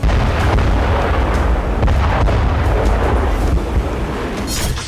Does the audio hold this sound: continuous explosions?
yes